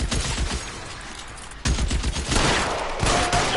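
Gunfire in the LA Noire Remastered video game, a close volley of sharp repeated shots in two bursts separated by a brief pause.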